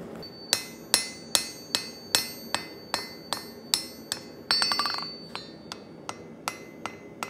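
Steel hammer strikes ring out on a steel axe head, knocking down its chamfered edges to flatten them; about fifteen sharp, evenly spaced metallic blows with a brief rapid flurry midway, close and clear with no talking.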